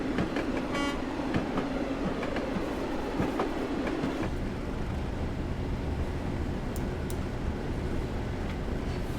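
Class 37 diesel locomotive in a train simulator video game, running with a steady low diesel rumble and rail clatter, a brief horn-like toot early on, moderately loud throughout without talk.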